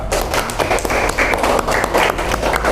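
A classroom group claps together in a burst of scattered, overlapping applause, fairly close and lively, lasting a few seconds without speech.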